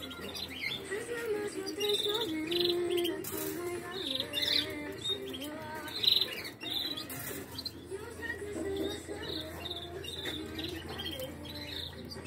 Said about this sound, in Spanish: Tenemos la parejita de jilguero mayor.